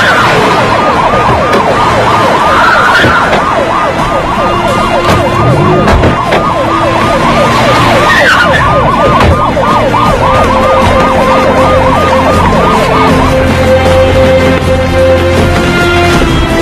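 Police sirens wail loudly in repeated rising and falling cycles, rolling over city traffic rumble for a long continuous stretch without speech, with the tones fading out near the end.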